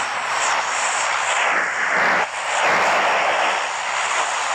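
Airplane engine drone in the video game PUBG, a loud steady roar that dips briefly midway and continues, with no talk over it.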